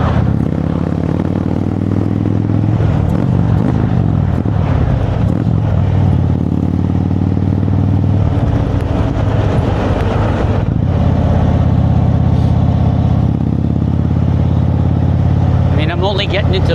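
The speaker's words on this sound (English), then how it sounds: "I'm gonna just ride the bike and let you hear it" Indian Chieftain motorcycle with a Fuel Moto tune cruising on open road up to fourth gear, a steady loud engine drone with wind buffeting throughout, no talk over it.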